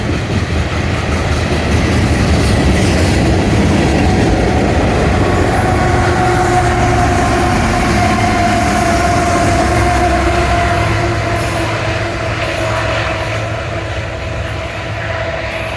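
A long CSX freight train rumbles steadily past in Cowan, Tennessee, loud and continuous, with a low drone and a faint metallic squeal running through the middle.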